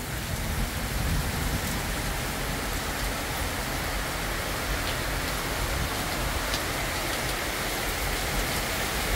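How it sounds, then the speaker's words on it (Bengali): Dense, even rain falls without pause in a village during a dark afternoon storm with strong wind, a constant broadband wash with no voices. "এত বৃষ্টি হইতেছে, প্রচুর বৃষ্টি, মানে ভরপুর বৃষ্টি"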